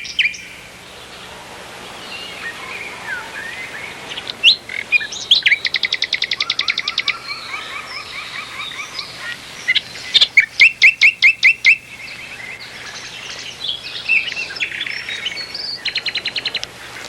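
A nightingale sings nearby in bright, varied phrases: rapid repeated trills, buzzy rattles and clear whistled notes in bursts separated by short pauses, loud and close over a quiet outdoor background.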